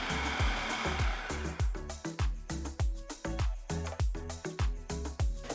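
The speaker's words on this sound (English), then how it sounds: "You're gonna pulse this until you get a crumb, but you don't want to over mix it so it's pasty" A food processor pulses vegan butter and vanilla extract into a crumb for a dairy-free, egg-free strawberry oat bar crust, giving repeated short motor bursts in a steady rhythm, close and fairly loud.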